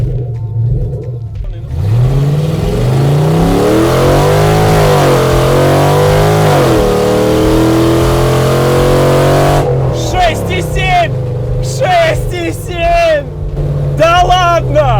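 A 300 hp UAZ off-road vehicle accelerates hard. The engine roars loud and close as it climbs steadily in pitch, then breaks off into shifting, choppy engine noise with people talking in the cabin.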